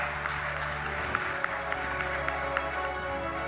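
An audience cheers Olympic javelin gold medallist Neeraj Chopra with steady, moderately loud applause, a continuous wash of many clapping hands with a few sharper claps poking through a low background hum.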